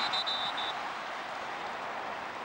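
Crowd at a 2006 NFL game in a stadium, a steady broad roar of many voices with a brief high whistle-like tone near the start, loud and sustained without talk.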